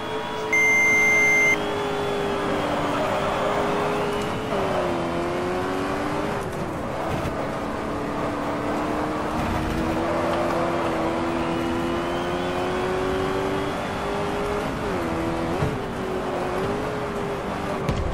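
A Ford Mustang race car in the GT Legends racing game on the Lydden circuit holds a loud, continuous engine drone, its pitch rising and dipping through gear changes and throttle lifts as it laps, with no talk.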